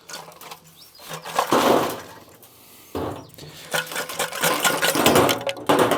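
A car engine with a dead, broken exhaust silencer runs loud and raw, with harsh rattling bursts that swell and drop across several revs, close by and without talk.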